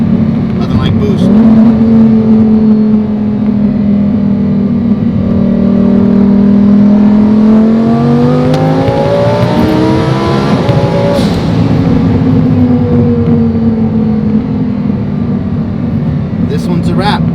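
A turbocharged car engine on a shop build revs up through a rising climb, peaks, then settles back to a steady loud idle, close and dominant throughout with a whooshing turbo whir.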